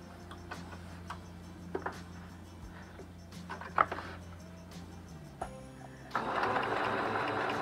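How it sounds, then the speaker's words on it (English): A sewing machine stitches fabric along a seam in short runs, its quick ticking motor rhythm close and steady, with a louder burst of continuous stitching near the end. "We're gonna sew all along here and back up, and we're gonna leave this open."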